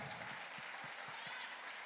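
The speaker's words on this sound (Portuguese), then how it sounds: "Queria aplaudir o Senhor pela vida do Lucas." Steady applause from a church congregation, a dense wash of clapping that holds at an even level throughout.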